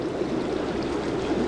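Water flows in a stream with a steady, full rushing and gurgling sound, continuous and close, with no voices.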